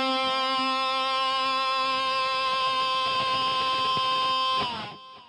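A single slide guitar note through distortion, damped by fingers trailing on the strings, rings clean and steady with clear harmonics for about four and a half seconds before cutting off.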